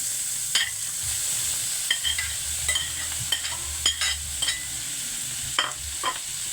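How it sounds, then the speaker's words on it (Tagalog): Ingredients sauté in fat rendered from meat while making ginataang langka, with a steady sizzle and repeated sharp scrapes and clinks of a utensil stirring the pan, close and without talk. "Ilalagay na po natin sila dahil nagmamantika po ang ating karne."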